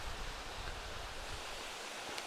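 Waterfall's main cascade tumbling over rocks in a natural setting, a constant broadband rush of falling water heard close and steady, with no voices.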